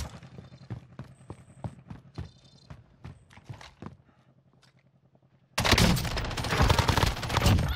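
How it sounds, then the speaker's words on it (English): Automatic gunfire in the Warzone video game, a rapid string of sharp shots in bursts, then a pause and a loud dense stretch of fire, with no talking. "Lots of shooting across the lake."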